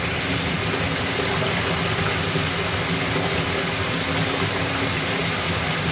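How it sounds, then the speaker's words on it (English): A bath bomb fizzes in water, giving a dense, steady hiss of bubbling and foaming that stays constant and fairly loud throughout, close up with no talking. "But there's still bubbling bath bombs."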